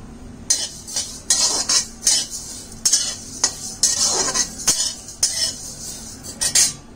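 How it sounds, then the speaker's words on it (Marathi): Coriander and cumin seeds are stirred in a hot kadhai over a low flame, giving close, irregular metallic scrapes and taps of a spoon against the pan with faint sizzling between strokes, and no talking. "आता त्यात हे धणे आणि जिरं टाकून घेते"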